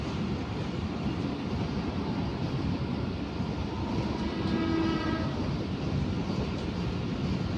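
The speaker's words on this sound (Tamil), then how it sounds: "அதோ பாருங்கள் நம்ம லோக்கல் ட்ரெயின்." A Chennai local EMU train passes with a steady, loud rumble of rail noise throughout, and a faint horn tone rises briefly near the middle before the roar carries on.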